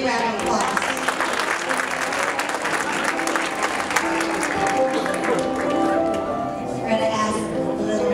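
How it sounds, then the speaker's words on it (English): Continuous crowd applause fills a pageant hall, steady and fairly loud throughout, with scattered cheers and a murmur of voices beneath the clapping. "Let's give her a big round of applause."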